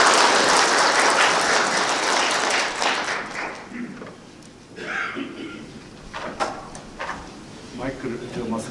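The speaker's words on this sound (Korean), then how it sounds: "박수로 환영해 주십시오." Applause from an audience at a memorial ceremony marking the 85th anniversary of independence activist Kim Dong-sam's death. A dense burst of clapping fills the first few seconds, then thins out into scattered claps and room noise.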